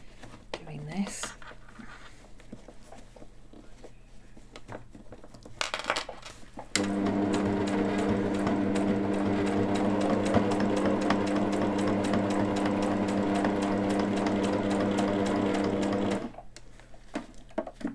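A sewing machine stitching in elastics runs in one steady, rapid, continuous burst for about ten seconds, close and clear, after a few quieter handling sounds, then stops abruptly.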